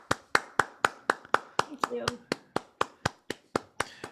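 A single person claps hands in a steady, evenly spaced rhythm of about sixteen sharp, close claps, with a brief spoken remark partway through.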